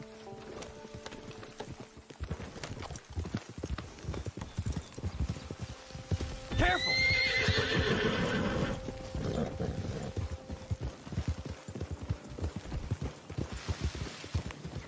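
Horse hooves clip-clop at a steady gallop under Red Dead Online game ambience, with a brief whinny midway and a short shouted word from a man.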